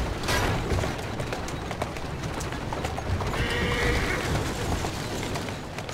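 A horse in the Victorian London street setting of Assassin's Creed Syndicate gives a short whinny amid steady clip-clopping hooves and dense carriage and city noise, fairly loud and continuous.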